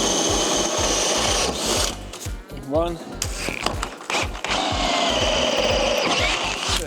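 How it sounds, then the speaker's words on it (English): An 8.5mm hole is drilled during a Fiat 500 electric conversion, with a rapid, mechanical whirring that stops briefly midway and then resumes. A single short spoken word is heard. "So that's the only hole we should need to drill for this."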